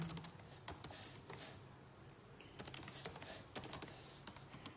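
Keys clatter on a computer keyboard as data is typed in, with quiet, close bursts of quick clicks separated by a pause of near silence.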